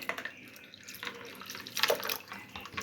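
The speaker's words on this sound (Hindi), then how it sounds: "अब इसमें ये पानी भी डाल दें।" Water pours and splashes into peach juice with ice nearby, a steady liquid gush with small drips, moderately quiet and without speech.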